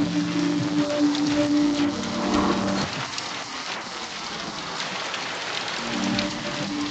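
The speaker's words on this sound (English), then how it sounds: "By day 64, it rained almost every day." Steady rain falls continuously through a wet outdoor survival setting, a dense, even hiss of drops on surfaces with no voices, slightly heavier at the start and holding at a constant level throughout.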